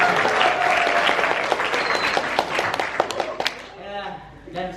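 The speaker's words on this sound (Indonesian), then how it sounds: "Tepuk tangan." Loud audience applause at an Indonesian stage performance, dense clapping filling the room before thinning out into scattered claps toward the end.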